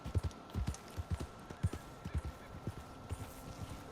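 Hooves of a Suffolk Punch draft horse in Red Dead Redemption 2 clip-clop in a steady walking rhythm, close and distinct, with no voices over them.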